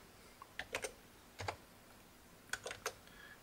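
Typing on a computer keyboard while setting up a NodeMCU with an I2C LCD in the Arduino IDE: two short bursts of crisp, close key clicks, a few keystrokes each, separated by quiet pauses.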